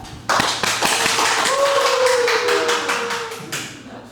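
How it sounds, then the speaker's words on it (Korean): Church congregation clapping to welcome a missionary to the front, a steady broadband patter of many hands lasting about four seconds, with a faint sustained tone running under it. "우리 나오셨을 때 큰 박수로 맞아주겠습니다."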